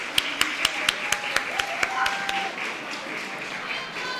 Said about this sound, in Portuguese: Vamos apresentar com uma salva de palmas o nosso